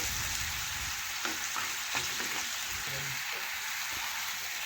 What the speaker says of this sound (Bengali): এখন ভালোভাবে একটু নাড়াচাড়া করে একটু মশলাটা ভাজবো